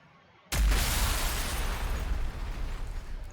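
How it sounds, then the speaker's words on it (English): Shots blast at debris in Warhammer 40,000: Sanctus Reach, a sudden loud burst followed by a sustained rumbling roar of explosions and crumbling rubble lasting several seconds. "I could go ahead and take some pot shots at the debris to try to clear out some of this"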